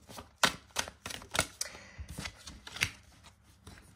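Tao oracle cards are shuffled by hand before a draw: a series of quick riffling swishes and soft slaps in an irregular rhythm, close and fairly quiet, with no talking.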